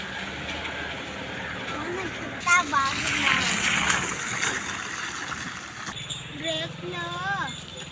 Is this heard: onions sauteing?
no